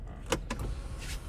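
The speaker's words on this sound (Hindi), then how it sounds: "मैं आपको इसकी पैनोरामिक सनरूफ खोल के दिखा देता हूँ गाड़ी की" The panoramic sunroof of a BMW X1 opens with short electric motor whirs and soft mechanical clicks, heard close inside the car with no talk.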